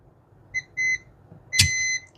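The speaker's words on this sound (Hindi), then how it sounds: "बजर मोड पे है।" A multimeter's continuity buzzer, set to buzzer mode during mobile phone repair, gives several short, close beeps in an uneven rhythm, ending with a slightly longer tone after a brief click.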